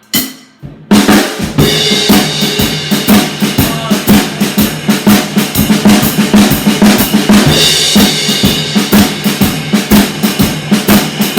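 A loud, driving drum-set shuffle groove with a rolling triplet feel, snare strokes alternating with bright ride cymbal hits throughout, no voices.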